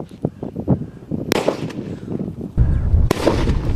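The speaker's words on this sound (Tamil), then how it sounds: "இப்போ நான் அதே குக்கருக்குள்ள அந்த பெரிய சைஸ் யானை வெடி வச்சிருக்கேன்" Large elephant firecracker set off inside a pressure cooker, giving sharp cracking pops and then two loud, close blasts that boom hard and leave a rumbling tail.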